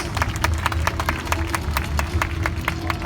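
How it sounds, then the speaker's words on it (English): A large outdoor crowd at an army open house show applauds steadily, with sharp scattered claps and a constant crowd murmur over a low background rumble. "There we go, a huge round of applause."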